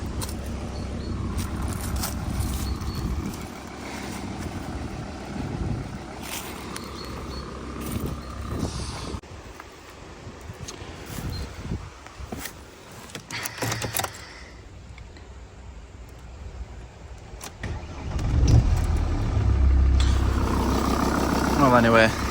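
A Volvo S TDI diesel car, off the road for ten years, cranks and catches among mechanical clatter and rattles, then settles into a low, rumbling idle close by near the end.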